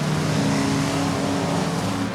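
Banger racing cars running in chained pairs at Ipswich, a thick, loud roar of several engines revving together for a couple of seconds with no pauses.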